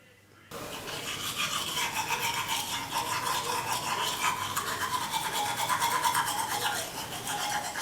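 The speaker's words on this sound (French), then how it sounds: "le brossage effectué avec une telle brosse à dents" Teeth are brushed with a plastic toothbrush in a steady, close, scratchy scrubbing rhythm that starts abruptly and continues without pause.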